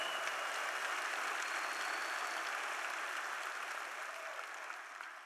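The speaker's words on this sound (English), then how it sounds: "Give the Lord a hand clap of praise." Congregation applauding in praise during a church sermon, a steady dense wash of many hands clapping that holds loud throughout and tapers slightly at the end, no speech over it.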